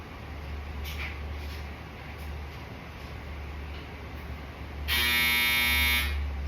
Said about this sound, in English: Sorry, that's my dryer.